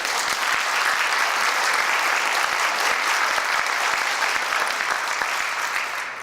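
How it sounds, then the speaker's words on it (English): Sustained, dense applause from a large audience at a hall of fame induction ceremony, an even wash of many hands clapping for several seconds before starting to fade. "You can applaud. That's okay."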